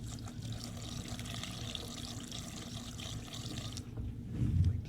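Tank liner liquid pours into the fuel tank of a 1973 Kawasaki G5 motorcycle, giving a steady close trickle. It swells into a heavier gurgling splash near the end, with no one talking.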